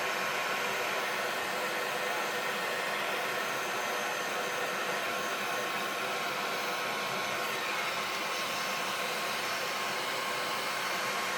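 A hair dryer blows on a freshly painted watercolour to dry it. Its loud, steady whooshing drone runs close and unbroken throughout, with no talking.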